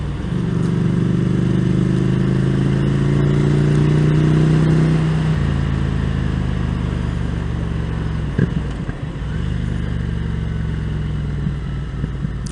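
A 2015 Ducati Scrambler motorcycle is ridden on the road, a steady engine drone with wind rush that shifts pitch as it eases off partway through, then carries on at a lower, rougher rumble.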